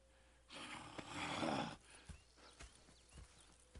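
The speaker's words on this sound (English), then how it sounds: "Go check the horses are ready." Horses in Red Dead Redemption 2 stir with a burst of snorting and whinnying breath, followed by a few soft, spaced hoof clops at close range; no speech.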